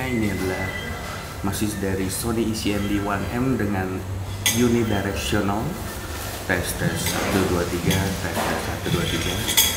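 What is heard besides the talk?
restaurant background with music and clinking cutlery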